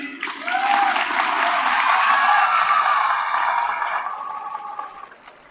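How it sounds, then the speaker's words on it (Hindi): A school audience at a children's film festival in Lucknow claps together in a dense burst of applause that swells for several seconds and then fades away. "आप सभी लोग डॉक्टर जगदीश गांधी, डॉक्टर भारती गांधी और डॉक्टर गीता गांधी किंगडन और यहां के लोगों के लिए ताली बजाइए।"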